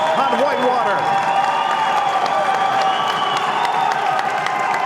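A basketball crowd at the Wilmer Center, Ripon College men versus UW Whitewater, cheers and applauds in a loud, continuous roar that holds steady throughout while a voice talks over it.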